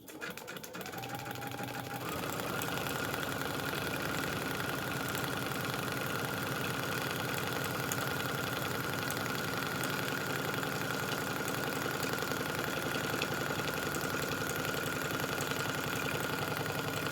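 A sewing machine stitches fabric along a seam allowance line while foundation paper piecing a quilt block. The motor gives a steady, close, continuous whir with rapid needle clatter that holds evenly for most of the span.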